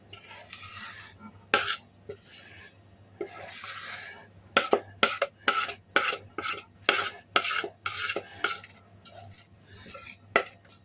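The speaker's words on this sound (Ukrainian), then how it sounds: "переливаємо наш сирок в ємність, яку ми підготували" Melted cheese made from tvorog being scraped and poured from a pot into a container, a series of sharp, rhythmic spoon-on-metal scrapes, some quick and clustered, others longer and smeared, with no talking.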